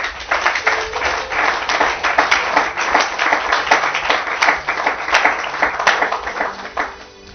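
A church congregation applauds during a Sunday service, sustained rhythmic clapping from many hands that swells and dips steadily throughout, fairly loud and close with no clear speech over it.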